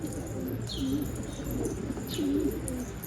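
A pigeon coos in low, soft rolling phrases close by, repeated twice against steady outdoor background noise, with a couple of faint chirps.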